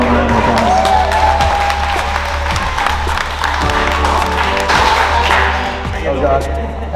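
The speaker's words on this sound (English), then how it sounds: "Give everyone a round of applause." A gym audience at a fitness event breaks into sustained applause and cheering, steady and loud for the full stretch, with voices talking over the clapping.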